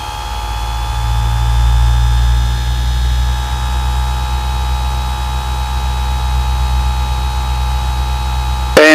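Cessna 152 engine held at 1700 RPM during a pre-takeoff run-up, a steady loud drone with a low rumble and a sustained whine, continuous for the whole stretch with only a brief click near the end.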